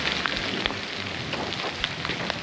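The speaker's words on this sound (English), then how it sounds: "Here's the rain." Steady rain falling close by on a hike at Cirque of the Towers in Wyoming's Wind River Range, a dense patter of drops on surfaces with occasional sharper taps.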